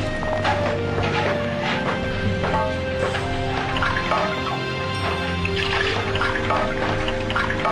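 Water pours in a continuous splashing stream, loud and steady throughout, layered with a sustained musical drone in the background.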